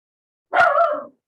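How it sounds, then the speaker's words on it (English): A dog lets out one loud, close bark, short and alone against silence. "That is some barking."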